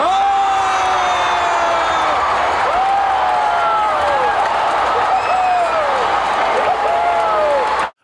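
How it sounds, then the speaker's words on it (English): Wrestling arena crowd erupting in loud, sustained cheers and whoops, with many voices and rising shouts that carry on together before cutting off abruptly at the end. "And the crowd explode"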